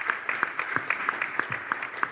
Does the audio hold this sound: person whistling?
no